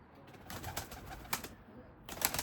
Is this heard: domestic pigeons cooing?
yes